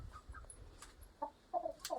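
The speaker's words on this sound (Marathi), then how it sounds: "आमची कोंबडी आजारी पडली." A sick village hen gives a few soft, faint clucks, with short bursts near the end and no talking.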